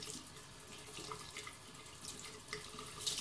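A sponge is rinsed under running tap water, a quiet steady splashing stream with small squelching bursts as it is squeezed, close by and with no talking.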